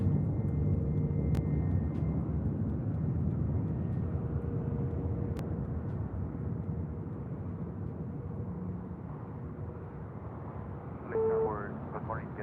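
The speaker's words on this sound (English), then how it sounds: "we got that Delta A350 now rolling down at 25 right" A Delta A350 airliner rolls down runway 25 right at LAX, a steady distant jet roar that holds low and even for the whole stretch, with a brief higher tone near the end.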